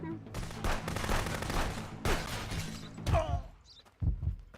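Rapid bursts of gunfire in the video game Contraband Police crackle in quick succession, then a few heavier thuds, loud and close.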